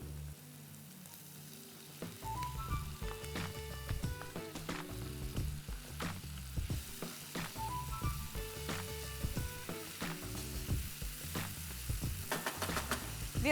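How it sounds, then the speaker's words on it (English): Finely chopped tomatoes sizzle and fry in a pan over sauteed onions, a steady close crackle with occasional stirring scrapes and clinks throughout. "We are going to cook it till the tomatoes are soft"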